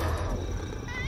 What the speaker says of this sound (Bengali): ওই তো আমার বিড়ালটা ডাকছে